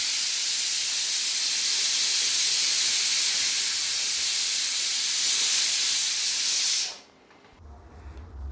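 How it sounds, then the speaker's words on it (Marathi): A pressure cooker in a home kitchen releases steam in a loud, continuous hiss for about seven seconds, then cuts off abruptly into near quiet. "कुकरच्या 2-3 शिट्ट्या"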